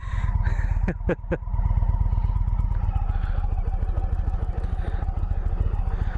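A 2021 Indian Vintage touring motorcycle rumbles through slow-speed U-turns, its low, steady engine thump continuous and close throughout, with a brief clatter near the start.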